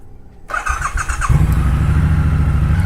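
A 2019 Triumph Bobber motorcycle engine cranks with a starter whir after brief quiet, then catches and settles into a loud, steady, low idle rumble close by.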